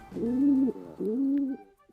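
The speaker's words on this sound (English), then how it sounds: "Gray pigeon" Gray pigeon cooing, two drawn-out low coos in close succession, near and clear with a short third note beginning at the end.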